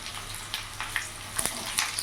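About a dozen garlic cloves and dried red chillies fry in hot mustard oil, giving a faint, steady sizzle broken by a few soft crackles and pops.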